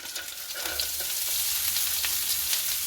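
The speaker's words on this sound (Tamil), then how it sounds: "பீன்ஸ், கேரட், கோவா, லீட்ஸ் இந்த வெஜிடபிளால் கொஞ்சம் கொஞ்சம் எல்லாத்தாலையும் ஆட் பண்ணிக்குள்ள போகிறேன்" Beans, carrot, cabbage and leeks fry in a pan with a loud, continuous sizzle and crackle, heard close up with no voices.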